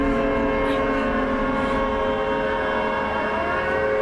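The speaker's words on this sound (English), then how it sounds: "is that a siren?" A steady, droning siren wails in the horror video game Siren: Blood Curse, its sustained tonal whine holding fairly even and loud throughout with no speech.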